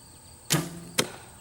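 An archery arrow loosed from a bow misses the target and thuds into straw hay bales: a sharp, loud impact with a brief ringing tail, then a second quick thump about half a second later.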